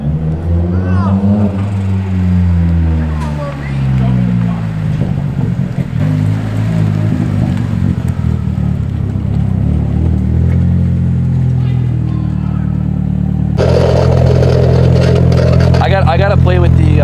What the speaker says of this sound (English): it surprisingly idles and runs really well